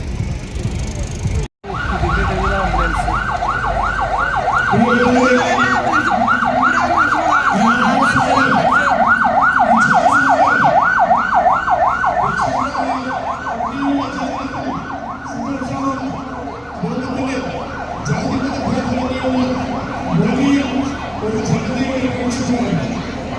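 A loud wailing ambulance siren rises and falls rapidly and repeatedly, close by, over rumbling traffic and a murmur of voices from a large crowd in Thrissur.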